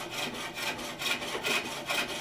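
A hand tool rhythmically cuts the inside of a wooden bowl on a spring pole lathe, each scraping stroke rising and falling in a regular back-and-forth pattern, close and alone.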